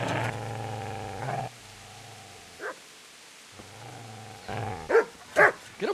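A dog in the medieval role-playing game Kingdom Come: Deliverance growls low and steadily, pauses, then bursts into a few loud close barks near the end, with no talk over it.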